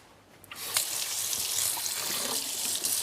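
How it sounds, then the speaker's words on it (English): A kitchen tap is turned on and runs steadily into a sink while a knife is rinsed under it. A short clink comes first, then a loud, continuous rush of water with small splashes, heard close. "I'm going to put this knife over here to wash."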